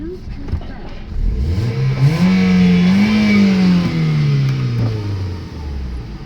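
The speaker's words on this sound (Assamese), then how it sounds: "চব গাড়ী ষ্টাৰ্ট কৰি মই দেখাই দিছোঁ এবাৰ" A second-hand car for sale in Jorhat, Assam starts up, and its engine swells into a loud rev that rises, holds and then settles back toward idle, heard close for several seconds.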